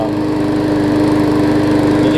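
A 2013 Murray push mower runs steadily up close, its small engine droning loud and even with a fast rhythmic chug, a fault of trash caught in the intake valve, and no pause throughout.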